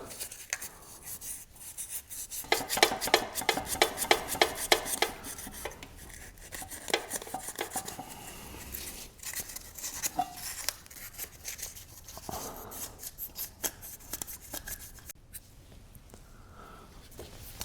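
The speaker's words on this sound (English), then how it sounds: "It's just good enough to take off any bits of corrosion or any bits of debris that's on that piston." Corrosion being scrubbed off the rear brake caliper piston of a Honda CB500X, with quiet, rapid rasping strokes in short bursts and scattered light scraping sounds.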